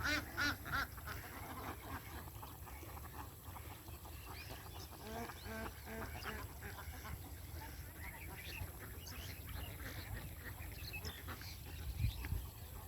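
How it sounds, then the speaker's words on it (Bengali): A flock of ducks quacks out in open village paddy fields, a dense chorus of overlapping calls at moderate distance under steady outdoor ambience, with no voices. "হাঁসের পাল,"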